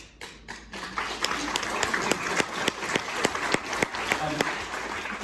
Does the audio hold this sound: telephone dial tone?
no